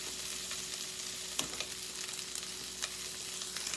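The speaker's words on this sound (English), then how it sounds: "Let me get it in my skillet here." Sliced andouille sausage rounds sizzle in a skillet, a steady close crackle of frying with a few sharper pops and scrapes as the pieces settle.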